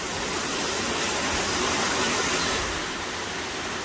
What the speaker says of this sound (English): here's a spot where people climb down and check out the waterfall